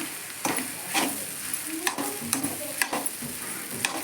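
Rice frying in hot oil in a pan for egg rice, with a steady sizzle and repeated scraping stir strokes at close range, no voices.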